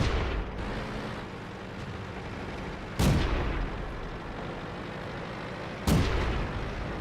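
Two heavy tank gun shots in World of Tanks, booming blasts about three seconds apart with rumbling tails over a steady engine drone.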